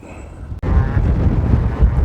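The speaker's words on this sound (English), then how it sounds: "It's very windy up here" Strong wind buffets the microphone on a high, exposed stretch of the Cleveland Way in North Yorkshire, with a loud, continuous low roar that starts abruptly and holds steady.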